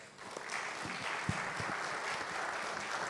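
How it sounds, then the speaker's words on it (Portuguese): Applause for panel participants at a talk on last-mile mobility: a modest room of hands clapping fairly faintly and evenly, with a few sharper individual claps and thumps standing out. "Uma salva de palmas."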